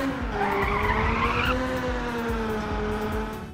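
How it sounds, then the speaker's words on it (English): Tires screech as a car drifts in the PlayStation racing game Ridge Racer Type 4, a loud, sustained squeal that wavers in pitch over a constant engine drone, with no voices. "Hitting these tight drifts will really make your heart race though"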